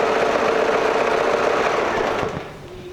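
An Usha Allure sewing machine stitching, a close, steady mechanical whir that runs evenly for over two seconds before slowing and winding down near the end.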